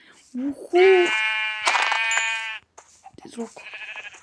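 Several bleating sheep calls in quick succession, bright and nasal, close and clear, from Minecraft, with short gaps between them.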